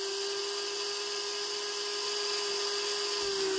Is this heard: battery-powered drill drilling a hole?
yes